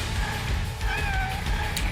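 A cat meowing in the video game Bravely Second, a couple of short, high, drawn-out calls over a dense, noisy game soundtrack.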